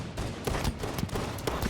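Magnum pistol shots in Halo 5 crack out in a quick irregular series over dense game noise, moderately loud.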